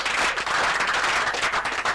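An audience at an outdoor broadcast of a Nigerian call-in program claps continuously, producing a dense, loud wash of applause with no talking over it.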